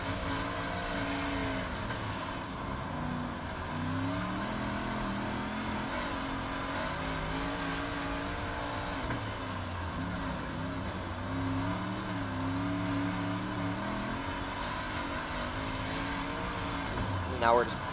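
Big block modified race cars circle the Cedar Lake oval in a racing video game, engines droning and rising and falling in pitch as they run in a pack. The sound is steady and continuous, with a brief sharp burst near the end.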